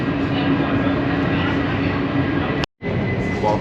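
A loud, steady rumbling roar of a Ouigo high-speed train moving between Barcelona and Madrid, constant throughout with a brief dropout near the end.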